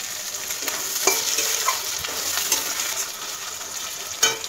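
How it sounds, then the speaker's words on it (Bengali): Finely chopped tomato goes into a hot pan for egg tarka, bringing a steady close sizzle of frying with light stirring taps and a louder splash of hissing near the end. "এবার দিয়ে দিলাম টমেটো কুচি"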